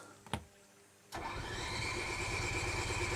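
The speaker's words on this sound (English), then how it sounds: "We're going to fire up the generator." A couple of clicks, then a motorhome generator cranks and catches, settling into a steady, fairly loud mid-pitched running hum.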